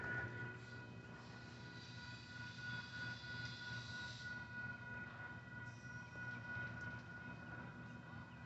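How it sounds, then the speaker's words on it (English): A southbound Union Pacific local freight train on the Stockton turn, led by locomotives 9926, 9925 and 9920, rolls past in a steady, continuous rumble of wheels and cars with a faint high squeal riding over it. "we got a southbound UP train coming"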